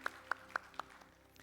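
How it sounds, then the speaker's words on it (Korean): A church congregation claps at a worship service: four sharp, evenly spaced claps about a quarter second apart, then a fainter trailing spatter that fades into quiet room tone. "우리 다시 한번 하나님께 영광과 감사의 박수 올려드립니다."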